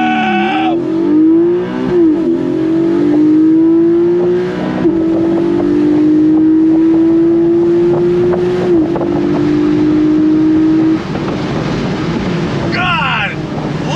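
A Porsche Boxster GTS launches under launch control, its engine roaring loudly and climbing steadily through several quick shifts, close and sustained, before easing off as a voice exclaims near the end.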